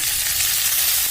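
Chopped tomatoes fry in a pan with curry leaves as the base for a crab curry, giving a steady, close, even sizzle that holds without a break for the whole short stretch.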